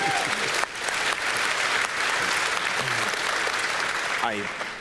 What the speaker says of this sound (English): that needs applause